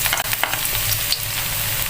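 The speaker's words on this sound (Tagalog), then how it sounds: "Simula na po tayo maggisa ng ating mga ricado." Garlic sizzles and crackles steadily in a hot pan, close and fairly loud, with a few stirring scrapes and no talking.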